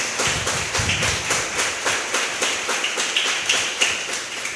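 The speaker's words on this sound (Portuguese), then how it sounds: "Aplauda Jesus por esse momento" Church congregation applauding during a sermon, a full, sustained round of clapping with a loose rhythmic pulse, fairly loud and steady from start to finish, no talking over it.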